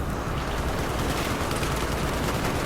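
Dense, continuous gunfire and explosions from a Battlefield or Call of Duty video game roar without a break, loud and steady throughout, with no talk.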